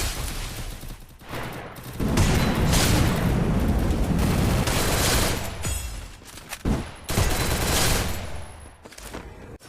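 Sustained bursts of rapid gunfire in the video game Free Fire, loud and dense, with rattling volleys and booms that pause briefly before resuming in heavy fusillades.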